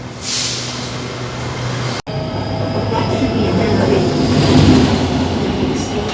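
Ordinary passenger train 207 passes through a Thai railway station, its rumble and wheel noise close and loud, swelling steadily as the cars roll past.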